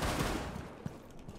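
Rapid gunfire from a Rainbow Six Siege match, a dense run of close shots with a few sharper cracks that thin out toward the end, heard without talk.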